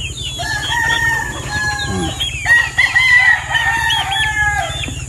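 Chickens and butcher-type fowl in a yard cluck and call continuously at close range, with a rooster's crowing rising above them, over a steady low mechanical hum.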